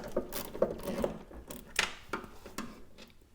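Quiet ratcheting clicks and faint metallic taps as a 10mm ratchet works a bolt on a car door check strap, irregular short bursts close by with no talking.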